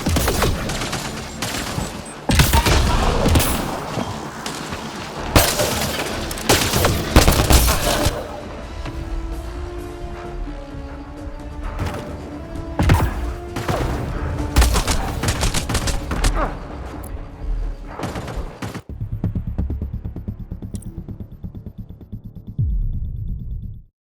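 Rapid gunfire in Mass Effect: Andromeda, with dense volleys and sharp individual shots over a noisy battle backdrop that thins out toward the end.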